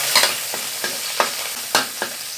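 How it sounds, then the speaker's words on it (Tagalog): Garlic and onion sauté in a hot pan, a close, continuous sizzle punctuated by regular sharp spatula scrapes and taps, about one every half second. "Gisa natin ang bawang. Sunod ang sibuyas."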